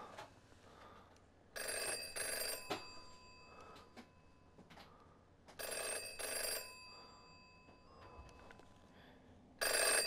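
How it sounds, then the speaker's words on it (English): In a virtual-reality video game, a stapler rings like an old telephone bell, three loud bursts of shrill electronic ringing separated by quieter pauses, with faint background ambience between rings. "The stapler is ringing."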